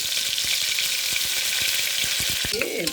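Soaked and washed dried prawns fry in hot oil with a dense, continuous crackling sizzle, close up, with a few soft knocks and stirring sounds near the end and no voices.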